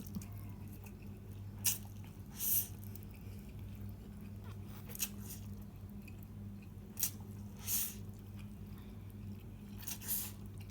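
Someone is eating spicy Korean instant noodles, with close, wet chewing and occasional bites and slurpy squishes spaced every couple of seconds over a low steady background hum.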